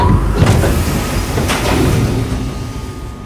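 In the video game Tesla Effect, an elevator travels downward with a loud, continuous mechanical rumble and rattling clanks, like a rail car moving steadily on its track.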